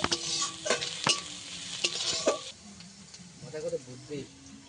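Onion and green chili sizzle in hot oil in a pan while being stirred, with sharp scraping clicks of the spatula over a steady frying hiss, loud and close.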